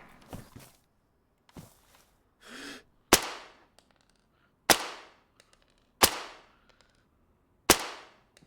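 Sharp gunshot cracks in DayZ, several loud single reports spaced a second or so apart with short decaying tails, plus fainter clicks and a soft thud between them; one shot strikes a player's bicycle or skate helmet.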